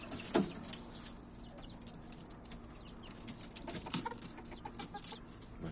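Chickens and roosters cluck in a coop on a rooftop in an industrial desert area, soft intermittent clucks and bird calls at moderate distance over quiet ambient noise.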